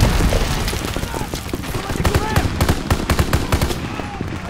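Suppressive gunfire in Call of Duty WWII, a loud, dense rattle of rifle and machine-gun fire with booms, as soldiers shout over it in a trench battle.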